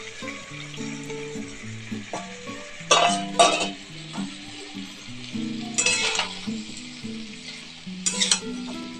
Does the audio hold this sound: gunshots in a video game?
no